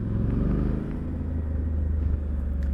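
A Suzuki V-Strom 800 DE motorcycle cruising in third gear around 30 mph makes a low, steady engine rumble with a smooth, even drone heard from the rider's position.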